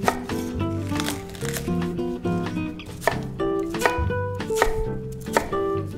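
A knife roughly chops cabbage for soup on a cutting board, giving a quick irregular series of close, sharp thuds with crisp leafy crunches.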